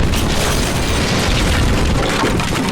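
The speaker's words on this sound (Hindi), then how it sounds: "उस बाण से रावण में धमाका होता है" A loud, dense explosion roars continuously, a thick rumbling blast with crackling debris that stays intense throughout, as a Ravana effigy is blown apart at Dussehra.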